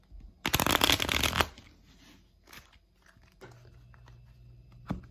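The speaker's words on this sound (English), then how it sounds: "Again, you're going to shuffle the cards." A quick, loud riffle of playing cards being shuffled up close, followed by softer handling sounds and faint taps.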